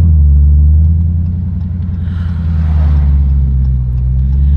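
A 717-horsepower Hellcat launches at full speed, its engine a loud, deep, continuous roar with a slight dip and swell as it pulls away, close and dominant with no voices.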